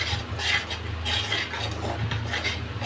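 Potatoes stirred with salt in a pan, repeated rhythmic scraping strokes of a spoon over a low sizzle, close and steady with no voices.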